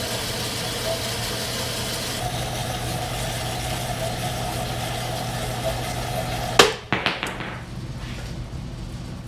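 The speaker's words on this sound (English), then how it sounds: "we'll get set up on the bandsaw to see if we can start cutting off some pieces." Bandsaw cutting through steel stock in a workshop, a steady droning hum with a constant mechanical whine for several seconds, then a few sharp clanks as the cut piece drops and the saw quiets.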